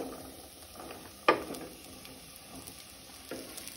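Sabudana is stirred into potatoes frying in ghee, giving a low steady sizzle broken by one sharp clatter and a few softer scrapes.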